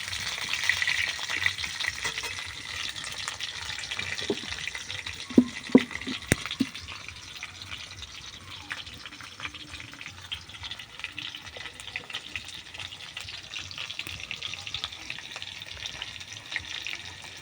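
Khichuri with Eid meat and lentils sizzles and fries steadily in a pot, with a few louder scraping stirs near the middle and a constant hiss throughout.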